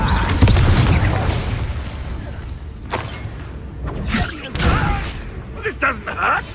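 The Incendio fire spell cast in Hogwarts Legacy, a loud burst with booming, whooshing flame and crackling impacts, several surging blasts in quick succession over rumbling low noise.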